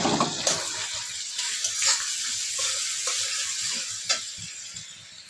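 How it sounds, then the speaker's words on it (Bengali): Fried carrots, beans and capsicum tossed into hot oil and ghee in a pan, giving a steady close sizzle with stirring scrapes and a few sharp clatters, no talking. "ভেজে রাখা গাজর বিনস ক্যাপসিকাম সব তেলের মধ্যে দিয়ে দেবো।"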